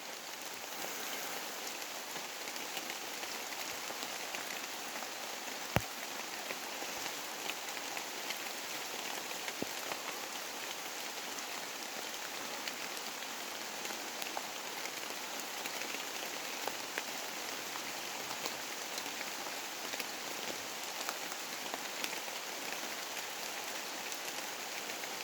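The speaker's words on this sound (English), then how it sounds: "it's rainy in the rainforest." Steady rain patters continuously on foliage and surfaces in a rainforest at Rocky Creek Dam, a dense even hiss with a few sharper drips, no voices.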